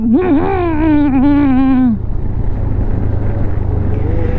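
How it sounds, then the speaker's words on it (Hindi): A motorbike engine revs hard on a road in Sikkim, a loud wavering whine for about two seconds, then drops into rough rumbling road and wind noise. "And finally my husband is able to rev."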